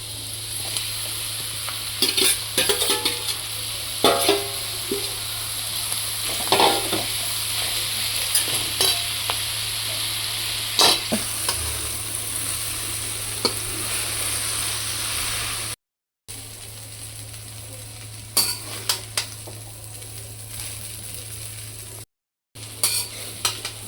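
Homemade noodles tossed with masala in a pan, with a steady sizzle under repeated scraping and clinking of a utensil stirring, and a brief dropout twice.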